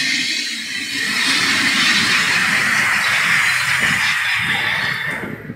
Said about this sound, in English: So here, we're gonna see a train arriving.